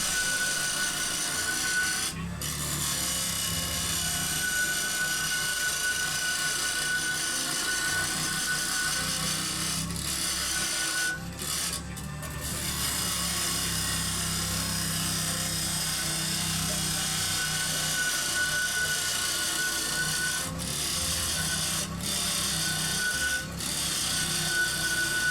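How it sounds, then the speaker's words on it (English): A wood lathe turns a bowl while a tool takes a deep 3–4 mm cut, giving a steady, close rasping and rubbing scrape over a constant motor hum, with a few brief interruptions and no talking. "As I become more ambitious with the cut, I notice that the lathe is tending to just slow down a bit"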